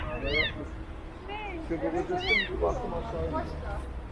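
A small kitten rescued from a car engine compartment gives several high, thin meows in short repeated cries, close by, with people talking softly around it.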